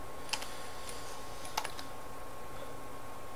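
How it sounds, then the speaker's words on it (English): Typing ipconfig on a computer keyboard: a few quick, light key clicks in short clusters, close and crisp over a faint steady hum. "we'll just type in"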